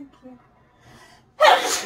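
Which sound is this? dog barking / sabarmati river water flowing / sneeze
sneeze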